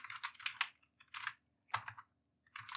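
Computer keyboard typing code in bursts of quick key clicks separated by short pauses, close and fairly quiet, with no talk.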